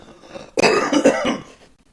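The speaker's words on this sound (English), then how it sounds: "I just coughed up fucking spit." One person coughs harshly and wetly, bringing up spit: a single burst of several rough hacks lasting about a second, close and loud, followed by quiet.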